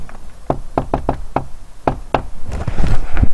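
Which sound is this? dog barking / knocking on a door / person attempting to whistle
knocking on a door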